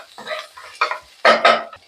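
A metal lid settles onto a cooking pot of pumpkin curry, a few close clattering clinks and scrapes in quick succession.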